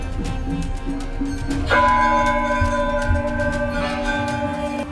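Many bells of all sizes ring together at the Jageshwar temple complex. They form a dense, sustained metallic chiming with a louder strike partway through, and several tones hang and overlap.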